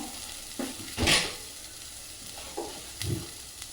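Mustard seeds crackle and sizzle in hot oil while dahi karela, a bitter gourd and yogurt dish, is cooked. A few short, soft bursts of spattering and stirring rise from a quiet background.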